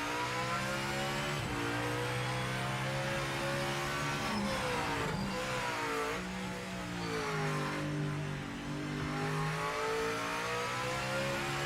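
Onboard hybrid race car engine in the Project Motor Racing video game, revving loudly and steadily, rising and falling through gear changes with a rich buzzing tone, close and alone with no talk.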